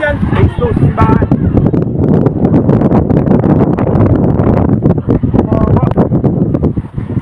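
Strong wind roars and buffets the microphone at a residential fire in Green Hills, Parañaque, as fire hoses spray water, and excited voices talk loudly over the constant gusty rush.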